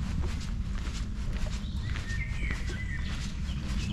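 Faint birdsong in the Forest of Dean woods, with a few thin chirps in the middle under nearby footsteps and a heavy low outdoor rumble.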